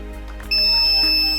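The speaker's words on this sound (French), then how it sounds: "si à la place de la LED, je mets un buzzer" A buzzer alarm in a laser beam-break circuit sounds suddenly and holds a loud, steady electronic tone, following a few soft clicks.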